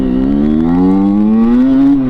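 Derbi Senda 50cc motorcycle engine revving with a small throttle blip, a loud close buzzing tone that climbs steadily in pitch over about two seconds.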